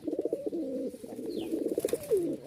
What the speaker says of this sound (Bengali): এই যে ডাক শুরু হইলো, কবুতরের ডাকটাও মাশাল্লাহ পুরা ঘরের মধ্যে ওই একদম মাথায় নিয়ে আসে।